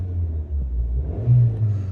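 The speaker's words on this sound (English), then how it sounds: "Starts up. Very quiet engine. I'll give it a rev." A 2014 Suzuki Swift 1.2 SZ3 petrol engine idles with a low, steady rumble, then rises briefly in a short rev near the end before settling back, heard close and alone.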